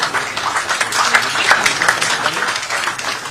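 A crowd applauds at an MoU signing ceremony for the Goa State Higher Education Council and DHE. The clapping is dense and sustained, filling the room evenly from start to finish.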